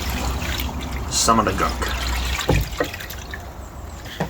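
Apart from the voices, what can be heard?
degreaser sloshing in a petrol tank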